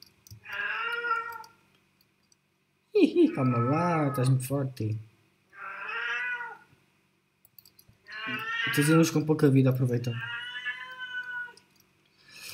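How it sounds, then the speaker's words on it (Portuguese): A pet female cat meows several times, clear and close, alternating with a man's Portuguese speech during a Roblox Blox Fruits gaming session. "Desculpa pelo barulho da minha gata, não posso fazer nada."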